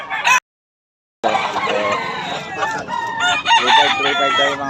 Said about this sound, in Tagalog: 3535 tayo mga manok ni Boss Renz mga idol